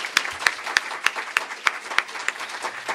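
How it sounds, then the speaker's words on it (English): A small audience at a community forum applauds panelists, with a dense patter of clapping punctuated by loud, regular claps close by, roughly three per second. "Please give them a round of applause."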